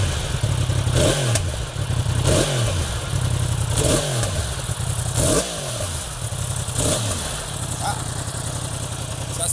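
A Yamaha R1 with its crossplane engine fires up and is blipped repeatedly, each sharp rev rising and falling in a regular pattern of about five bursts over a loud idle, close to the machine.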